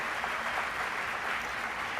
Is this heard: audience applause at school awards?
yes